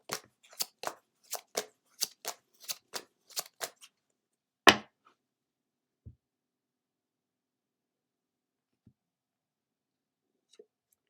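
A Moonology oracle card deck being shuffled and a card drawn, giving about a dozen crisp, rhythmic riffling snaps followed by one louder slap and a few faint taps, close and isolated in quiet.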